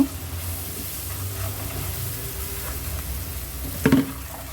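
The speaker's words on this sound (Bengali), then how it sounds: "জিরার গুঁড়া সব 1 চামচ করে, লবণ স্বাদ মতো। তেলের মধ্যে একটু ভেজে নিব।" Turmeric, coriander and cumin powder with salt frying in oil in a pan, a steady close sizzle and hiss that swells into a brief louder burst of crackling and stirring near the end, with no talking.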